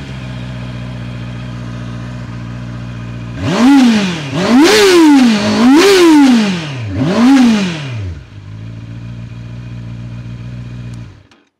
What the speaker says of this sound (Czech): Zvuk má ta 650ka nádherný.